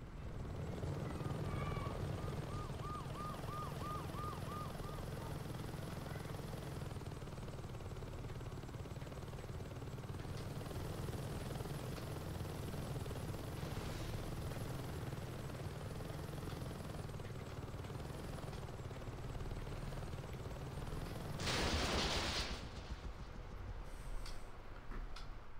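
A helicopter in Saints Row 2 drones steadily for the whole stretch, a constant low rotor and engine rumble, with a brief louder burst near the end.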